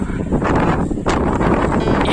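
A strong blizzard wind on Southern Demerdzhi mountain in Crimea roars and buffets the microphone in loud, continuous gusts.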